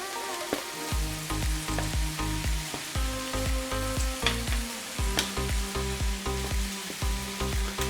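Day-old cold plain white rice fries for Chinese chicken egg fried rice, a steady close sizzle with crackles and pops and occasional stirring scrapes throughout, no talking.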